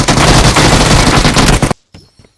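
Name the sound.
gunfire in the video game PUBG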